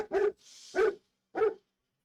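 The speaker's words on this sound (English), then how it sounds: "Sorry about the dogs." Several dogs bark in three loud, close bursts with a higher whine between the first two, then a short pause before the last bark.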